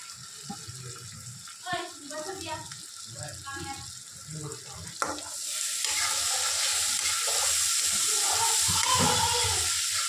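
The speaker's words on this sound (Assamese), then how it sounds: "এতিয়া মছলাখিনি ভাজি লওঁ অকণমান।" Spices with ginger-garlic paste fry and get stirred in a pan for a pabo fish curry, a steady hiss with scraping stirs, growing louder and denser in the second half; a voice talks over the start.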